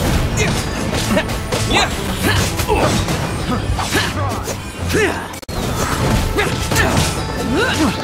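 Heavy smashing impacts and whooshing strikes from a Terra Smash attack in the video game Genshin Impact, with repeated crashes and thuds over a dense, busy game soundtrack, loud throughout.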